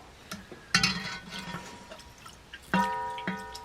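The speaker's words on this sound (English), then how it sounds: "I'm going to add a little bit of water just so I get all of that beautiful, beautiful gravy." A little water goes into a gravy pan for Sunday dinner, giving a few short splashy drips and a sizzle-like burst near the middle. The sounds are faint, close and sparse, with no talking.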